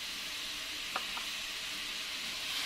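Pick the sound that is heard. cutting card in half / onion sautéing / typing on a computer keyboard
onion sautéing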